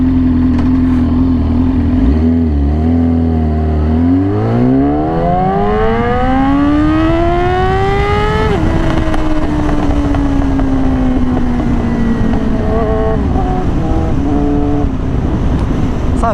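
A Yamaha R6 sport bike engine revs up from idle in a smooth, rising pull to high pitch, then eases back and settles near idle, loud and close with no talking.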